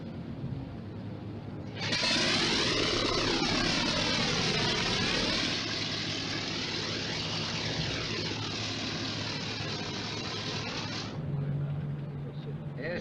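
A propeller aircraft engine fires up after a brief hush, roaring loud and steady with a wavering, sweeping pitch as it runs, then the roar cuts and drops to a low rumble.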